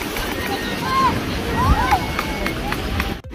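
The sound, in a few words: ocean waves breaking at Karachi Sea View beach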